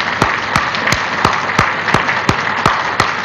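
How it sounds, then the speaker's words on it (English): Audience at a county government address giving a round of applause, a steady crowd wash with sharp rhythmic claps from one nearby clapper punctuating it. "Let's give Matt another round of applause."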